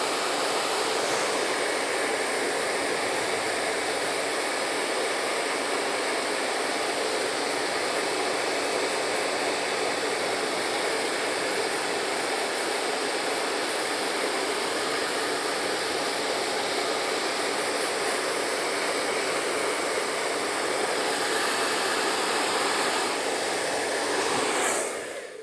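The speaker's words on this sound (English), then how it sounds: "Foil shaver." An electric foil shaver running during a taper haircut, a loud, steady, high-pitched buzzing hum held unbroken for about twenty-five seconds before cutting off, with no talk over it.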